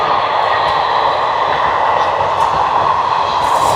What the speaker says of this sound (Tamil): கரண்ட்டில் போகுது இந்த ரயில்.